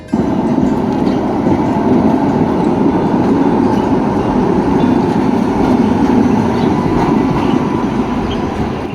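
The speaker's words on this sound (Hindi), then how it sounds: "तो हमने ट्रेन पकड़ ली, लोकल ट्रेन पकड़ ली" Continuous loud rumble and rattle of a local train in motion in Budapest, heard from inside a carriage, steady with faint clatter.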